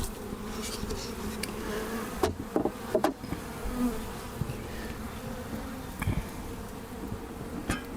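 Honeybees buzz in an opened hive during an inspection, a dense, steady hum close by, with a few individual bees droning louder as they pass near.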